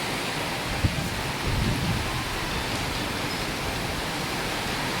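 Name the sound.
heavy rain and strong wind during typhoon Kristine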